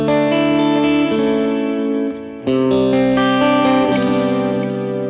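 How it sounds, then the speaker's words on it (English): An electric guitar played through a pedalboard delay rings out with layered echoing notes, and the sustained tone dips sharply in pitch partway through before swelling back in a floating, repeating wash. "see that pitch drop?"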